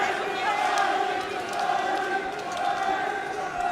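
A crowd roars at an MMA bantamweight title bout, a steady sustained wall of cheering and shouting that swells and dips slightly throughout without clear individual voices.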